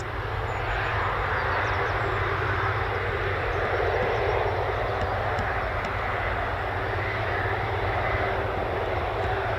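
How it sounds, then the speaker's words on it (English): RAF Airbus A330 Voyager tanker flying at RAF Brize Norton, a loud continuous jet roar with a broad rushing hiss that holds steady throughout, no talking. "This is our Royal Air Force's Voyager, the largest aircraft in its fleet."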